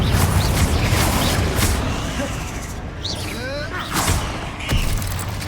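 Confringo fire spell bursts in Hogwarts Legacy, a run of booming, whooshing magical blasts with several sharp swells amid loud, busy combat noise, and a voice shouting over it.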